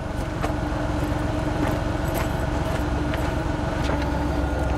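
A car's engine idles steadily and close by as its brakes are bled, a continuous low rumble with faint periodic clicks and ticks over it and no talking.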